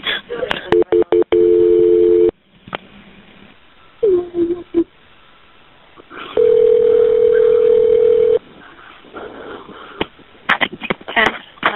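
A telephone line rings during a 911 emergency call transfer, with long steady ringing tones and dialing beeps broken by clicks, heard through a narrow phone line between stretches of talk.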